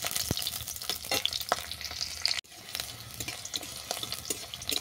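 Food fries in a pan with a steady, close sizzle and crackle, broken by a few stirring scrapes and a brief dip midway, continuous and without speech.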